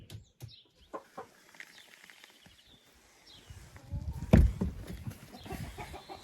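Hens in a coop cluck in scattered short bursts, fairly faint at first, then a louder thump and a flurry of movement and clucking toward the end.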